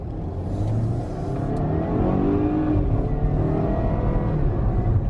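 A 2019 Volvo S60 with a 2-liter turbocharged four-cylinder accelerates in dynamic mode, its engine note rising and holding strong from inside the cabin, with no talk.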